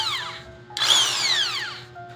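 A Barena impact drill whirs in short bursts, running forward, its motor pitch rising and falling, one longer run in the middle, close and fairly loud.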